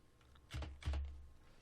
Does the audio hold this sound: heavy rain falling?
no